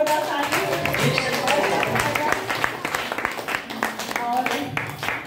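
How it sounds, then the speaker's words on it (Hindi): Loud applause from a seated audience at a leadership program presentation, dense sustained clapping filling the room with crowd noise throughout. "सर के लिए भी जोरदार ताली"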